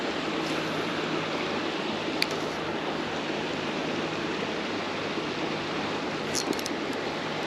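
Shallow river water runs steadily around an angler wading up the middle of a city trout stream, a constant broadband rush with no pauses, close and fairly loud, with a few faint clicks.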